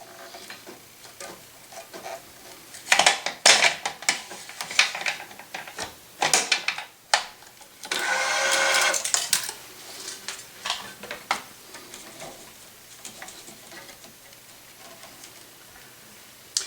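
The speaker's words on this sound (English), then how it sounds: "And now we're going to tension this short loop, again with the starting clamp." Racquet stringing machine tensioning a short string loop with a starting clamp, strung in an around-the-world pattern: sporadic mechanical clicks, ratcheting and clacks, with a louder grinding burst in the middle, all fairly close and without talk.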